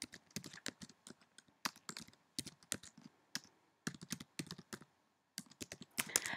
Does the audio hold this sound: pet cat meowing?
no